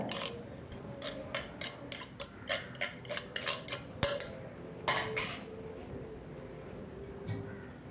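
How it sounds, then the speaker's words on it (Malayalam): A spoon mashes peeled roasted eggplant in a bowl, giving a close run of quick rhythmic taps and scrapes that slow into a few scattered knocks, quiet with no voices. "ഇനി നമ്മളിത് ഉടച്ചെടുക്കുകയാണ് ചെയ്യുന്നത്."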